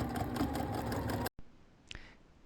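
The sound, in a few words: sewing machine stitching in the ditch on a quilted shirt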